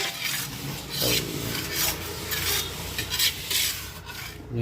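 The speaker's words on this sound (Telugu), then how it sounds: "ఎర్రగా వేగేదాకా మినపప్పును బాగా ఫ్రై చేసుకున్న తర్వాత" Urad dal frying in a pan, a continuous dry rasping sizzle with rhythmic scraping strokes as it is stirred, no voices.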